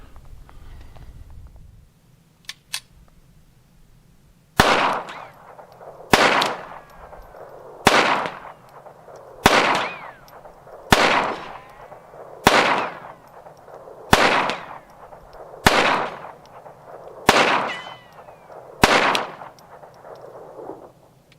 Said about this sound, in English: let's try 10 rounds through the Ruger pistol